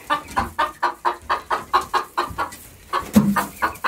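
Several chickens cluck in a steady, repeated rhythm of short calls, close by and fairly loud, with a slightly deeper call near the end and no talk.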